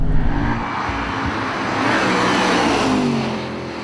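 A 2006 Audi RS4 with large floating discs and eight-piston calipers decelerates hard under braking, a broad steady roar of engine and road noise that swells and then fades.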